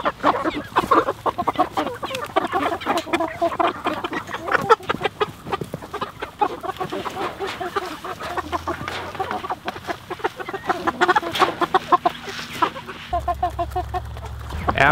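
A flock of meat chickens clucking close by, a busy, continuous chatter of overlapping calls with a few louder squawks.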